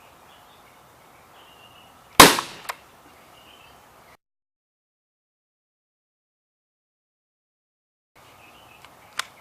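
A Diamond D-440 high-velocity powder-actuated tool fires a pin with one sharp, loud crack and a short rattling echo, followed by a brief smaller knock and then silence.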